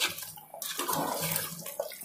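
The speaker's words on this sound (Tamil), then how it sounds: "ஒரு கப் தண்ணி ஊத்துனா போதுங்க இதுக்கு ரொம்ப தண்ணி தேவைப்படாது" Water pours from a cup into chicken gravy in a pan, a short rushing splash that runs almost continuously, close and fairly loud.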